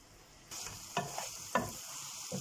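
Eggplant pieces frying in a pan, a soft steady sizzle that begins partway in, broken by a few sharp scrapes or stirring knocks.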